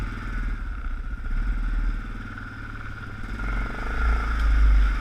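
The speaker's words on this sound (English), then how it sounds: "I am in low gear, just approaching it easy, nice steady throttle through it." An ATV engine runs steadily in low gear through a mud hole, a close, even mid-pitched drone that swells slightly near the end as the throttle holds.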